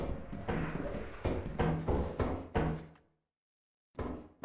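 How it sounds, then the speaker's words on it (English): Several heavy thuds and knocks from a door opening or closing in the game Lethal Company, a burst of loud hits followed by a second of silence and then another knock. "I heard a door open."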